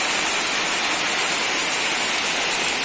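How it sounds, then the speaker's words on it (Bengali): Heavy monsoon rain pours down as a dense, constant roar that is loud and even throughout, with no voices. "তো দেখতেই পাচ্ছ এত পরিমাণে বৃষ্টি নেমেছে, ঝমঝম করে পুরো।"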